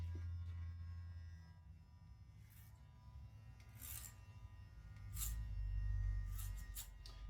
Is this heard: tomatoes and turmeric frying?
no